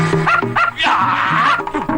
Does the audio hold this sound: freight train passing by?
no